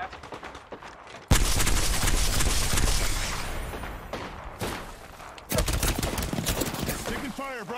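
Gunfire in the Apex Legends video game: dense, continuous bursts of automatic weapon fire with a sudden loud onset, a second surge of rapid shots, and faint talk underneath.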